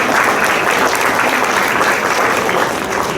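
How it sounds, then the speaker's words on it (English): Dense, steady applause from a symposium audience thanking the caterers, a loud continuous wash of many hands clapping throughout. "So let's give a round of applause for our caterers."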